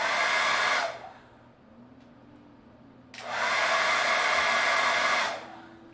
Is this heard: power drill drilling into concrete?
no